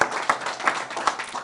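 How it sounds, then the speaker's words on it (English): An audience at a Massachusetts small-business grant event claps and applauds steadily, a dense patter of many hands with a few louder claps standing out. "big round of applause for what you guys have done."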